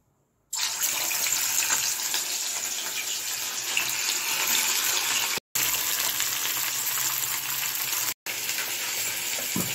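Fish sizzling steadily in well-heated oil, a loud continuous crackle and hiss close by, briefly cut off twice, with no talking over it.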